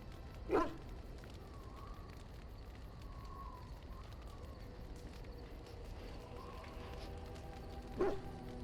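A dog in the video game Dragon Age: Origins gives two short barks several seconds apart, fairly faint over a low, steady ambient background.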